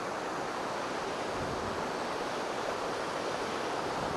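Dumpavalasa waterfall roars as a steady, broad rush of falling water, constant and unbroken with no voices.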